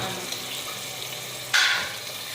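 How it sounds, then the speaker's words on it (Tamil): Water briefly splashes into a mixer grinder jar as it is rinsed in a home kitchen, a short bright gush rising suddenly out of a low background hiss and fading within a second. "ஸோ மிக்சியை கழுவி தண்ணி ஊற்றிடுறாங்க"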